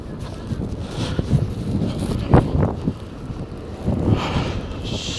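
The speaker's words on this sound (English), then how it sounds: "Super windy," Strong evening wind during a January snowstorm in Toronto buffets the microphone in uneven gusts, with louder bursts midway and toward the end.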